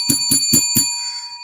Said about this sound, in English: Let's ring the bell for that.